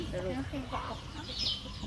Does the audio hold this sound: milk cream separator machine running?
no